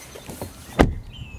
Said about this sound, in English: the V90 door closing sound